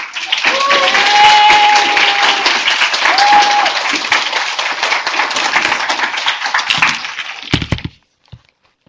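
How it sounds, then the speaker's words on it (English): Loud audience applause at a keynote talk, dense clapping sustained for about eight seconds with a few brief voices calling out over it, then tapering abruptly to silence. "Can we do that round of applause again,"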